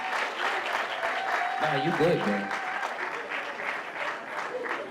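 Guests at a retirement party clap in a moderate, continuous round of applause while someone briefly speaks over it.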